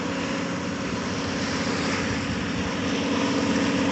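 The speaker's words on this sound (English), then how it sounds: "Can you see that plane up there?" A propeller float plane flying overhead at a beach, a steady broad droning engine roar that holds loud and constant, swelling slightly toward the end.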